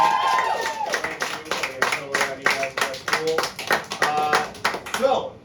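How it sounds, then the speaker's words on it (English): An audience at a Boston comedy game show applauds the players with dense, sustained clapping that carries on for several seconds and then tapers off at the end. "Guys, would you give our players a big round of applause?"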